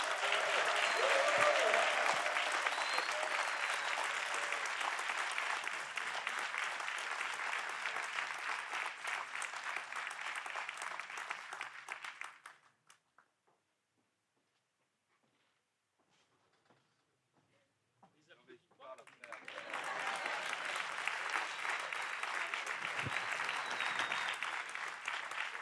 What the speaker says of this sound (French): Je vous demande d'applaudir bien fort Éric Coquerel.